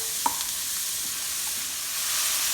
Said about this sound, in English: You're going to cook the onion and the red pepper for about 5 minutes.